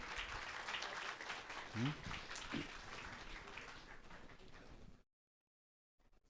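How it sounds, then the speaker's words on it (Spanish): A church congregation claps steadily for several seconds at moderate volume during a Sunday service, then the sound cuts to silence before a brief return at the end. "aplauso por favor, matrimonio para matrimonio"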